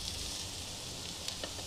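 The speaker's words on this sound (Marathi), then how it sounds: "आपण कारला आता परत एकदा हलवून घेणार आहोत" Bitter gourd frying in a pan as it is stirred, giving a steady, moderately quiet sizzle with a few faint clicks of stirring throughout.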